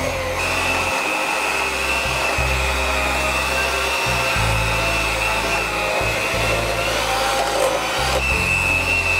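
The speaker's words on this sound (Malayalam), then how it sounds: "അല്ലെങ്കിൽ ഒരു ബ്ലെൻഡർ ഉപയോഗിച്ചിട്ട് ചെയ്യാം." Electric mixer beating 100 grams of butter with a cup of powdered sugar for cookie dough, a steady loud motor whine with a low churning rumble that shifts as the beaters work, continuous and close.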